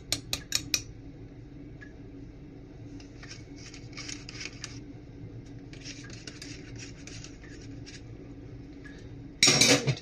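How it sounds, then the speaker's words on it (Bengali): A small spoon stirring sugar into cups of tea, light clinks and scraping against the cup rims, faint and intermittent, with a louder burst of rattling at the end. "ছোট একটা চামচ দিয়ে একটু নাড়াচাড়া দিয়ে দিই"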